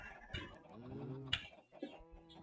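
A chicken in a video game clucking and cooing softly in short, close calls, with a brief sharp sound in the middle and faint game ambience underneath.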